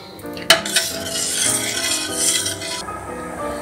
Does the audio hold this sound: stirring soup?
yes